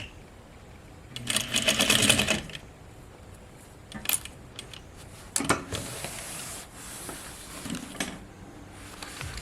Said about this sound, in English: Okay, and then we'll end with a back stitch.